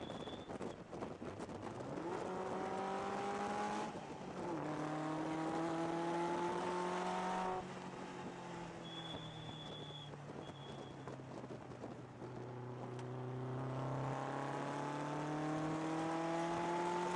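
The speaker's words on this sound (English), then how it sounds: "This car is very powerful and very fast." A Lotus sports car drives fast, its engine revving and rising through gears in repeated climbing whines, close and fairly loud, with wind rushing past throughout and no talking.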